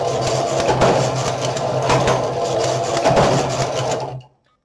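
A domestic knitting machine knits rows, its carriage sliding back and forth in a rapid rattling, clattering rhythm with a few louder sweeps, close and alone, before stopping abruptly.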